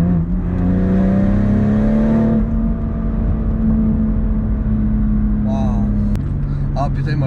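A BMW M135i with a Stage 2 tune accelerates hard from inside the cabin, its engine note rising steadily and loud, then shifting gear with a crackle and dropping in pitch, with a voice heard under it.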